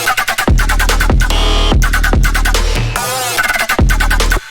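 Loud, heavy electronic drop bass patch built in the Serum synth for a remake, with thick growling low bass, gritty pulsing mids and sweeping tones in rhythmic bursts, running continuously with no talking.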